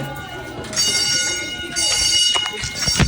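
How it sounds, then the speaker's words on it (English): A loud, piercing fire alarm blares in repeated long tones inside a middle school, close by, with people talking and moving around underneath. "running in there to silence the alarm"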